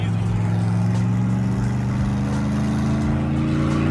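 A car accelerating hard while racing an SRT, a steady loud engine drone with deep low rumble that holds throughout, heard from close by as though inside the vehicle.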